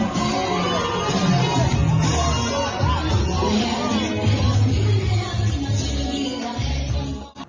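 A large rally crowd in New Carrollton welcomes Guinean opposition leader Cellou Dalein Diallo with sustained cheering, shouting and chanting, loud and dense throughout before cutting off at the end.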